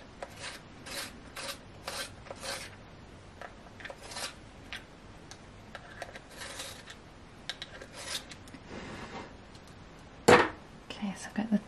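A Warm Grey colour pencil is sharpened by hand in short raspy scraping bursts, close and fairly quiet, with pauses between the strokes.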